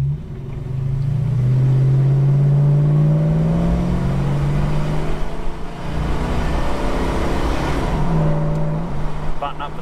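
A Holden HK car pulling away hard in first gear, its engine rising in pitch as it revs up loudly nearby, dipping briefly at a change, then climbing again.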